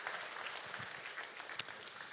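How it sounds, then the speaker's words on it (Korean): Faint audience applause at a Korean community self-governance convention, a soft, distant patter of many hands with one sharper knock partway through. "감사의 박수 한번 주시겠습니다"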